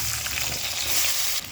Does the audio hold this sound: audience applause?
no